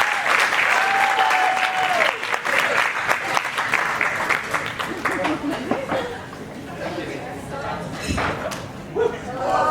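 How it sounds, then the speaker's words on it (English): Wedding guests at a reception give a big round of applause for the matron of honor, with dense, lively clapping that gradually thins out while chatter and voices continue underneath. "Ladies and gentlemen, one more big round of applause for Matron of Honor, Lily."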